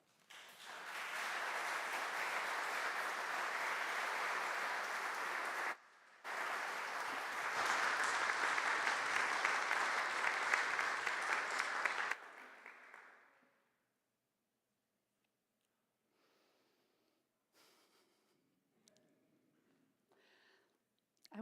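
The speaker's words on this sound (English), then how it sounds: "that applause that happened was this outpouring of applause for the way this community holds one another" A church congregation applauds during a Sunday service, a dense, sustained burst of clapping from many people that briefly dips, swells again and then fades into near silence with faint scattered sounds.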